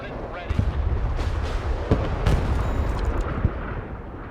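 Aircraft missile launches in the military video game Broken Arrow, loud rumbling booms and bursts over a dense roar of battle noise, with several sharper blasts standing out.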